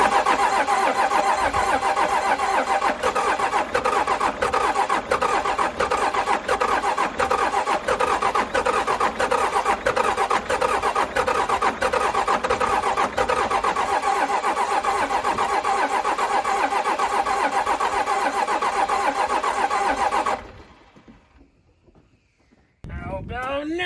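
A Cummins 12-valve 6BT diesel engine with a new head gasket cranks on the starter in a steady, loud, continuous grind for about twenty seconds without catching, then cuts out into near silence.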